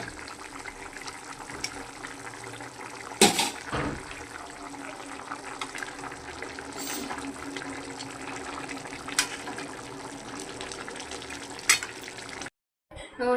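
Live rohu fish frying in a pan, a steady loud sizzle with a couple of sharp spattering bursts, then cutting off abruptly near the end.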